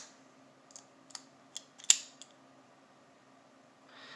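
A Master Lock Speed Dial lock being worked by hand gives a few soft, sparse clicks close by, one sharper snap in the middle, then a faint rustle, all in a quiet room.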